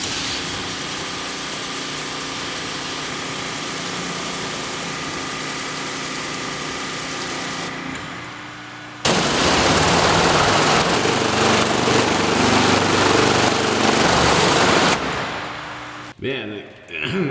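A small gasoline pressure washer engine runs steadily for a Mosmatic Hurricane undercarriage sprayer while detailing a manure-covered Kenworth truck; the loud drone drops out near eight seconds, then surges back louder with spraying hiss before cutting off.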